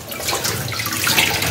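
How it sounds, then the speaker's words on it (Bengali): Water splashing and pouring steadily over potted plants as their dirty leaves are washed, a close continuous gush with no talk. "প্রত্যেকটা গাছকে ভালো করে স্নান করাবো।"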